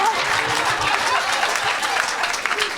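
A church congregation applauds for Jesus, sustained loud clapping from a crowd filling the room, with voices mixed in underneath.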